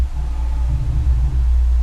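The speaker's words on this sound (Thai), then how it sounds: "อันนี้คือเสียงสตาร์ทรถว่าจะสตาร์ทให้เป็นมัสเซลคาร์" A simulated muscle car engine start from a Maxhaust speaker exhaust system on a Maserati Ghibli: a deep, throbbing rumble holds steady throughout, loud and close, with no voices.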